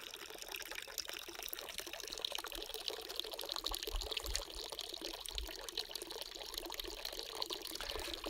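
Water runs steadily at a mountain spring on a dry Arizona trail, a close, continuous splashing trickle with a bubbling, uneven texture and no voices.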